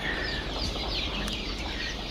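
A crowded brood of young Fayoumi chicks keeps up a steady chorus of overlapping high peeps and soft clucks, close and fairly loud, with no voices.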